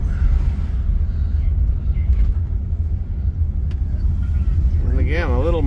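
A 1953 Mercury Custom drives along with a steady low road rumble and engine drone heard from inside the cabin, and a voice speaks over the noise near the end.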